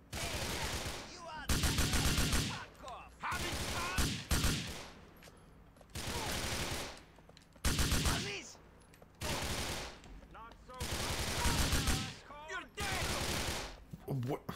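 Grand Theft Auto IV in-game gunfire, loud bursts of rapid shots coming in several separate volleys with short pauses between them, each lasting about a second.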